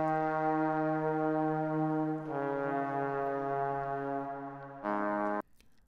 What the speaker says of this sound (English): my neighbor came over and recorded some trombone sounds